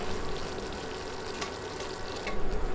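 Sugar melting into caramel hisses and sizzles steadily in a pan, with soft stirring scrapes, close and continuous, as the first step of making mango leather.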